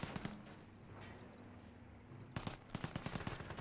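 Bursts of gunfire from a Company of Heroes battle crack out in quick succession, with a short rattle at the start, a quieter gap, then a sharp cluster of shots toward the end.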